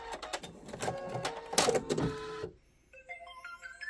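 An embroidery machine stitches a design in a hoop with rapid, rhythmic mechanical chatter, close and loud, then stops abruptly and plays a short sequence of bright electronic beeps.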